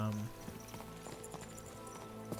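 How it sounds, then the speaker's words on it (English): Horse hooves in Kingdom Come Deliverance 2: steady clip-clop of a horse moving, fairly quiet, under game music and background sounds, with a voice talking over it. "Just a random horse."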